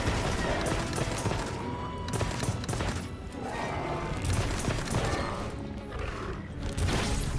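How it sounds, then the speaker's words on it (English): Heavy bowgun in a video game fires ammo in rapid, continuous bursts, a dense unbroken stream of loud gunfire with crashing impacts across the whole stretch. "Long-range weapon fires ammo from a distance"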